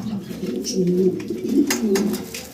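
Several caged pigeons on a farm coo steadily, their low, rolling calls overlapping and continuing throughout at a moderate, close level with no talking.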